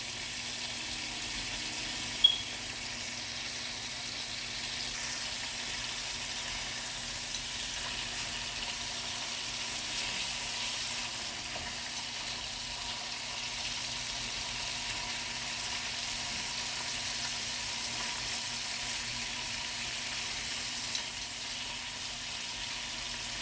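Lamb chops searing in a hot pan give off a steady, even sizzle that runs continuously at close range, with no voices over it.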